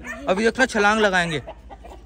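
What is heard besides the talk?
chickens and rooster clucking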